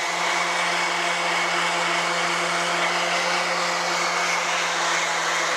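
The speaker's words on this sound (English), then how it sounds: "So that's the process using the DA sander." A DA sander with 120 grit paper grinds a half round bullnose onto marble tile, a loud continuous whirring hum that holds steady throughout with no pauses.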